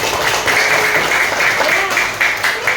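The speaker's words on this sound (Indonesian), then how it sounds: "Tepuk tangan untuk kita semua hari ini." A class of pupils clapping together, steady, close applause lasting a few seconds, with a bit of voice mixed in.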